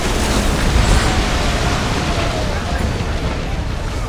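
Enemy warship fire bursts around a Greek trireme at sea in Assassin's Creed Odyssey, a loud dense wash of booming explosions and roaring noise that runs steadily throughout.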